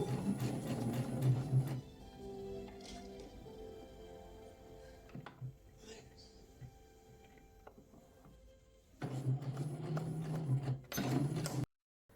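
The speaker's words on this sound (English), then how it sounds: "I start by preparing the pairs and sewing the seams continuously without cutting the thread." A sewing machine stitches quilt seams in a continuous chain, its steady mechanical whir running in two loud bursts at the start and end with a quieter stretch between.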